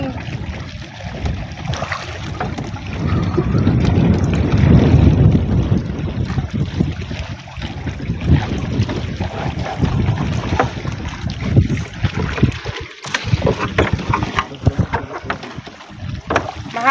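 Strong, gusty wind from a storm roars and buffets the microphone continuously at a campsite, with a broad low rumble that swells and eases, no voices present.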